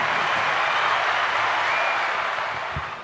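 An audience at an indoor car show in Cleveland's IX Center applauds and cheers, a dense, continuous wash of clapping and crowd noise that fades slightly toward the end.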